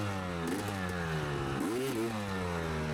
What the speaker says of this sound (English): Getting mad at the bike, gave it one final good kick and got started.